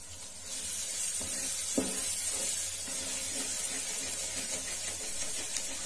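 Ginger powder and nigella seeds fry in hot masala for chana daal, giving a steady close sizzle with faint stirring clicks and one brief scrape.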